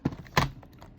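A couple of quick keystrokes on the small keyboard of a KingJim Portabook XMC10 netbook, two crisp close clicks with a faint third tap after, no talking.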